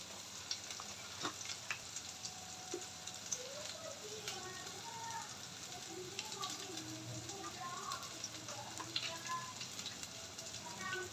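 Mutton frying and being stirred with cloves, cardamom and salt in a pan, a low steady sizzle with scattered scrapes and clinks of a spoon, faint and continuous throughout.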